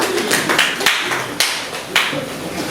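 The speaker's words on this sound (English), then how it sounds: "so let's clap for ourselves." A group at a science teaching session claps for themselves, with close, uneven hand claps and a few sharper strikes over a steady patter, lasting under three seconds.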